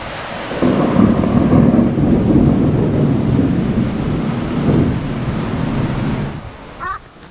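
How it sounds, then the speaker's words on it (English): Heavy rain pours during a thunderstorm on a city walk in Kuala Lumpur, a dense steady roar with deep thunder rumbling underneath, swelling near the start and fading toward the end. "This place is crazy, but it's raining."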